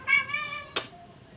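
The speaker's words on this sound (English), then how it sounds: "that's my cat, excuse her." A house cat lets out a single short, close meow, followed by a small knock and a faint second mew, with no voices over it.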